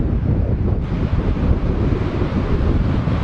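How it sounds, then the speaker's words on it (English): Strong wind buffets the microphone in a continuous roar on a beach near Mount Gambier, South Australia, with surf rumbling underneath and no voices. "rocky sand, and then the windy beach."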